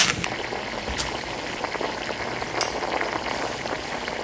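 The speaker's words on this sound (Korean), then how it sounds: "먼저 물을 붓고 끓기 시작하면 라면을 넣어주세요." Water at a rolling boil with ramen noodles in it makes a busy, crackling bubbling that runs without a break, close and fairly loud, with a few sharper pops and no voices.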